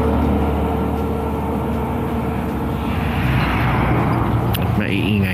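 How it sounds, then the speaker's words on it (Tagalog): Trucks pass on a road, making a loud, continuous engine roar and rumble that swells slightly toward the end. "Punahin natin saglit yung mga truck."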